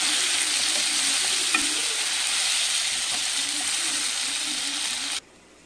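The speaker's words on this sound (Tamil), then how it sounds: "தக்காளி போட்டுடலாம். நல்லா வதக்கணும்." Tomatoes sauté in a pan for a vegetable masala Maggi, a loud, even hiss of frying that runs steadily, with a couple of faint utensil taps, then cuts off abruptly near the end.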